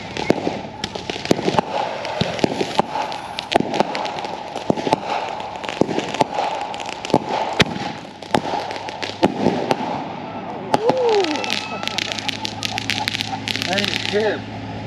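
Firecrackers and fireworks crackle and pop in rapid, uneven bursts on New Year's, with sharp close bangs throughout and a fizzing whistle near the end, while people talk nearby.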